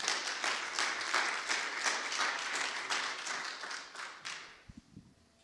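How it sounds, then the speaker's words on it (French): A church congregation applauds warmly together, a dense wash of clapping that holds steady for several seconds and then fades out, followed by a few soft knocks. "Est-ce qu'on peut le donner une bonne main d'applaudissements?"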